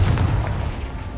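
A fiery Confringo spell blast goes off in the Hogwarts Legacy game. It is a single loud, booming explosion that hits at once and then fades into a rumbling tail over about a second.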